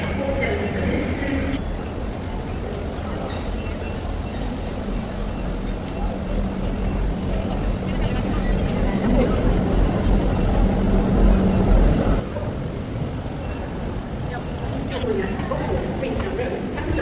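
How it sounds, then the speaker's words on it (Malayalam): A moving train carries a continuous low rumble and broadband roar heard from inside the carriage, steady throughout with faint indistinct voices in the background. "നമ്മൾ ട്രെയിനിൽ കയറി."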